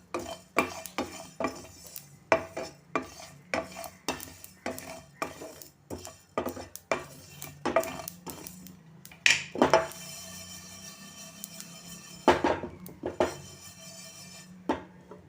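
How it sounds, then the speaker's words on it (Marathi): Chickpeas and sesame for red chickpea laddoos dry-roasting in a pan over low gas: a steady series of sharp scraping and clinking strokes from a spoon against the pan, close and fairly loud, with a few brief rattling scrapes, no talking. "हे सगळे पदार्थ मंद गॅसवरच भाजायचे नाहीतर ते पटकन जळू शकतात"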